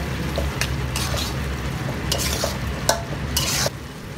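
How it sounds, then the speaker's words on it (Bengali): Dried fish stir-fried with spice paste in a pan: a constant loud frying sizzle under repeated sharp scrapes and clinks of a spatula against the metal, close and steady, with no talking. "শুটকি খুব ভালো মতো এই মশলার সাথে কষিয়ে নিতে হবে।"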